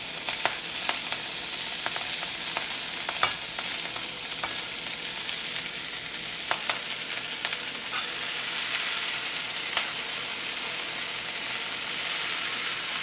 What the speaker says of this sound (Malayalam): കടുക് പൊട്ടുമ്പോൾ നമുക്ക് അതിലേക്ക് അരിഞ്ഞ് വെച്ചേക്കുന്ന ഇല ചേർത്ത് കൊടുക്കാം